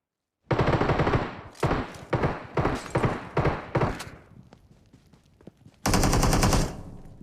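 Rapid automatic gunfire bursts in PUBG Mobile on the Livik map, loud and close, with several separate volleys followed by a sustained dense burst near the end.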